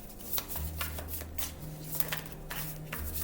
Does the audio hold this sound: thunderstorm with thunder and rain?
no